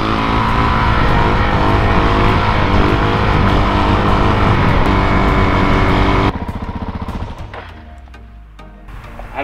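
A loud engine runs hard on a supermoto ride through village roads, a dense steady roar that cuts off abruptly partway through and gives way to a quieter idle-like rumble fading down.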